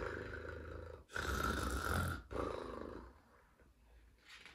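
A person imitating a big snore while reading a children's bedtime story aloud, two long rough drawn-out breaths with a short break between, then a fainter trailing breath.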